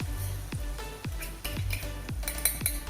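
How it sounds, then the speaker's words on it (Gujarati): Ginger, garlic and chili paste sautéing with cooked onions in a pan for an onion curry, with a steady low sizzle and repeated sharp spoon scrapes and clinks against the pan at roughly half-second intervals. "આપણે થોડી સતળાવા દઈએ"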